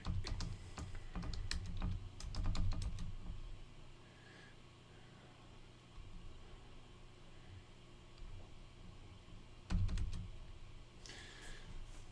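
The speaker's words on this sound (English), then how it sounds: "I'm just going to basically type in what we're listing here." Bursts of quick keystrokes on a computer keyboard while entering an eBay listing, clustered early on and again later, close but fairly quiet over a low room hum, with pauses between runs and no talking.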